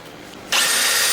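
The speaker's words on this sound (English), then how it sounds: "I have to clean the frame up and drill a hole for it" A power drill bites into the steel frame of an old pickup truck, starting abruptly halfway through and then whining loud and steady up close.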